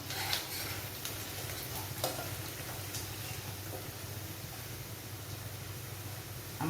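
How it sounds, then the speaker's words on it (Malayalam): Curry leaves and asafoetida crackle in hot oil for a mango pickle, a soft steady sizzle with a few sharp pops, faint and alone. "നമ്മുടെ കറിവേപ്പിലയൊക്കെ കിലുകിലാന്ന് വരുന്നുണ്ട്."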